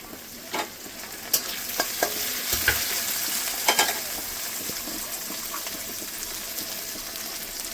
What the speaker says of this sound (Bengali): পেঁয়াজ কাঁচা লঙ্কা ভেজে নিয়েছি, ক্যাপসিকাম দিয়ে দেবো।